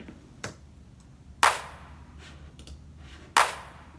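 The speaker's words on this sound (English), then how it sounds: "I think the clap sounds really good" Sharp clap sample from a beat made on Maschine, two crisp bright hits about two seconds apart over a quiet, faintly noisy background with a softer tick before them.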